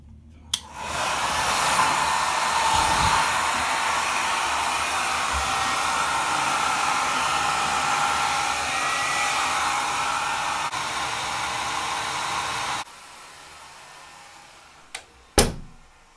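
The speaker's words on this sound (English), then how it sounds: "I think that's the only disadvantage of this whole thing with the hair blower." A hair dryer blows steadily in a hotel bathroom, heating an omelette, a loud even rush of air lasting about twelve seconds before switching off, followed by quiet room tone and a sharp knock near the end.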